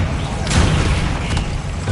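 A Confringo explosive spell blast in Hogwarts Legacy bursts out as a broad, loud boom amid dense battle noise, with a second, smaller burst following shortly after.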